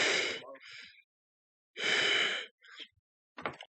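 A voice imitates someone breathing funny, making two loud rasping gasps separated by silence and followed by short fainter breathy snorts, close and isolated.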